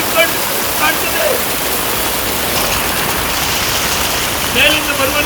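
Rainwater pours from a municipality building roof in Karkala, a dense steady roar of falling water close by, with brief voices faintly beneath it.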